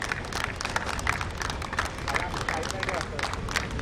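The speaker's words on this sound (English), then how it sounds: "should be given a round of applause" A crowd applauds at a Mumbai cricket league prize ceremony, with dense, steady clapping mixed with background crowd murmur throughout.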